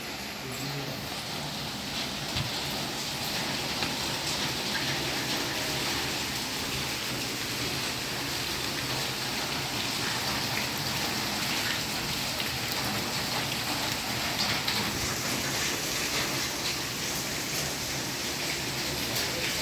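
Heavy rain pours down in Chennai, a dense, steady hiss of drops on surfaces that runs unbroken and fairly loud throughout, with no voices.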